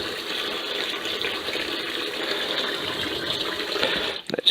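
Tap water pours steadily into a plastic soap-making container, a close, even hiss and splash that ends with a brief clunk.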